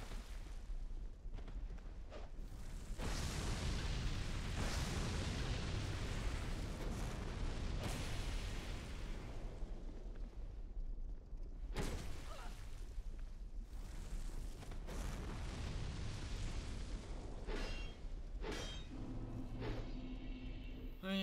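Fire attacks in a Dark Souls 2 player-versus-player duel, with a Black Dragon Greatsword in play, give repeated roaring, booming bursts that swell and fade over about twenty seconds amid steady game noise.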